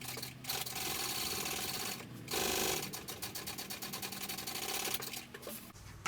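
A sewing machine stitches a sling bag in a steady, close, rapid whir, breaking off briefly twice before running on again, with no talking.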